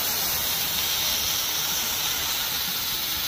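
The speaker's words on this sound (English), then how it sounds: "As I spray down each panel at the very bottom" A garden hose sprays water steadily onto rooftop solar panels, giving a continuous loud, even hiss with no break or voice over it.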